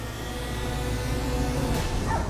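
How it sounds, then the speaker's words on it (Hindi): Guard dogs bark at something outside in a continuous overlapping chorus over steady background noise, with a short yip near the end. "भैया ये डॉग्स बाहर की तरफ देख के क्यों भौंक रहे हैं?"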